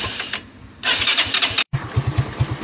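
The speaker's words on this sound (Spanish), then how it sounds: "Ya encendió la moto." An Italika FT150 motorcycle, just refuelled after running out of gas, cranks with a few rough bursts, cuts out briefly, then catches and settles into a loud, close, rhythmic putter.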